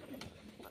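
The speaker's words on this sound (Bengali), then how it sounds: "খুব সুন্দর কোয়ালিটির পায়রা" A pigeon gives a brief, faint coo, one soft low call against quiet background hiss.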